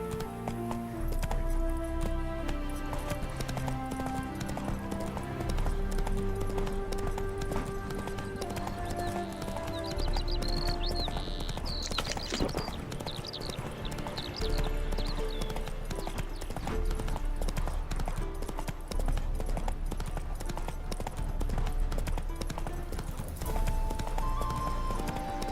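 Galloping horse in The Witcher 3, with continuous rapid clip-clop hoofbeats under game music, a brief neigh around the middle, and steady loudness throughout.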